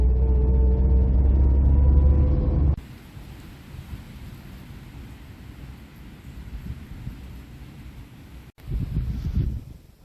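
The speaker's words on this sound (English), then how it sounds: "I'm afraid it's a little bit windy here" Outdoor wind buffets a microphone beside a parked 1975 Vauxhall Victor FE Transcontinental 2300S, a steady low rumbling blast with a louder gust near the end, after a brief engine hum cuts off.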